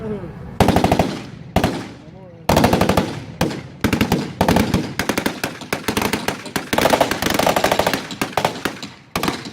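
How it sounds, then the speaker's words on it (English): An M60 machine gun with belt-fed ammunition fires at a Vietnam War reenactment, loosing repeated loud rapid-fire bursts of close, hard-edged shots, separated by brief pauses. "The M60 machine gun, that's the one with the big belt of ammo"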